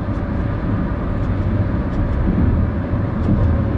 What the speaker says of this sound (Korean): 기어 레버를 사용해서 변속을 해보면